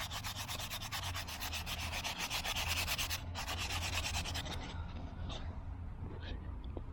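Sanding a carved spoon made of nectarine fruitwood from an old damaged tree, a steady close rasping rub with rapid regular strokes that stops after about four and a half seconds, leaving quieter handling noise.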